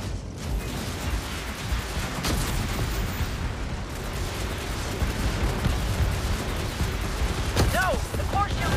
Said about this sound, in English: Let's use some rockets